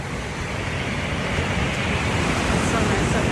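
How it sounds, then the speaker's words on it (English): Ocean surf at Malibu beach at sunset, a continuous broad roar of breaking waves that swells slightly louder toward the end, with no clear voices. "I'm not sure if you guys can hear me over the waves."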